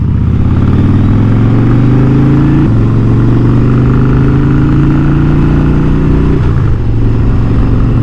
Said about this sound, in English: This is such a well-balanced motorcycle